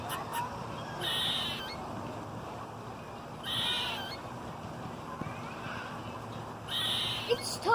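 A squirrel makes bird-like calls, three similar squeaky cries spaced a few seconds apart, fairly close and clear over steady outdoor background noise.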